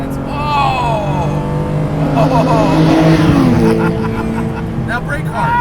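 A Guntherwerks 400R Porsche's engine revs up with rising, wavering harmonic pitch sweeps, loud and close from inside the car, while people talk over it.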